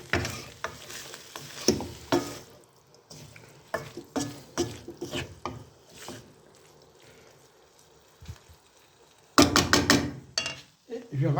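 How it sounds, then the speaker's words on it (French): Pork chop seasonings with black pepper and Espelette chili are stirred gently in a pan. Close, irregular scraping strokes come in bursts with short pauses, over a soft sizzle. "Là, on remue gentiment."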